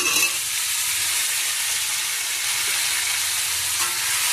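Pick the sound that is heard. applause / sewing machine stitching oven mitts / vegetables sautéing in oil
vegetables sautéing in oil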